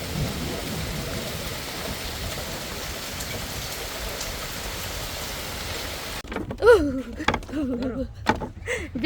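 Steady rain pours down in a village where fishing hooks are being set from a boat, a dense continuous hiss for about six seconds that then drops away as voices begin talking nearby.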